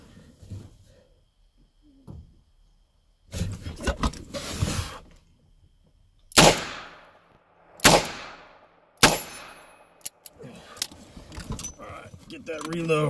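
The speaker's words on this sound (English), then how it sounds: "using a 686 plus right now. .38 special plus P out of this sucker" Several loud, sharp .38 Special +P revolver shots from a Smith & Wesson 686 Plus, fired singly at a steady pace outdoors, with handling clatter and reloading noises in between.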